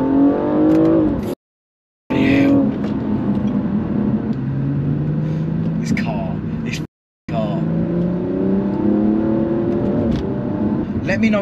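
A BMW M235i engine revs hard after a downshift to second, its pitch climbing and dropping through gear changes, with a couple of sudden brief silences and someone talking.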